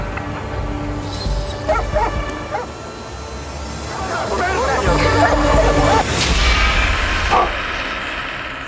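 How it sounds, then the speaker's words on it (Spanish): A dog barks and yips repeatedly with whimpering, mixed into a busy scene with voices and background noise, the barking fairly close and prominent throughout. "¿Qué fue eso? ¿Es el perro?"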